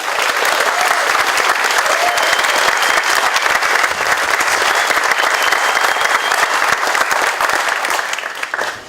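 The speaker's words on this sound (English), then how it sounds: "How about a round of applause for the band once again?" A large outdoor crowd at a Memorial Day ceremony applauds the band with dense, steady clapping that holds at full strength for about eight seconds before starting to fade.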